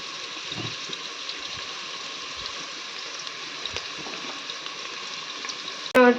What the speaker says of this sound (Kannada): ಈರುಳ್ಳಿ ಫ್ರೈ ಆಗುವಾಗ ಮೆಣಸಿನ ಪುಡಿ ಹಾಕಿದ್ದೇನೆ